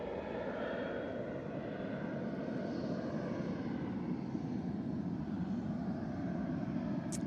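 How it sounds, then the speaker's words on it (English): An Embraer Phenom business jet departing Manchester Airport for Southampton, a steady, loud broadband engine roar that holds constant throughout without any talking. "That Embraer Phenom is going off to Southampton"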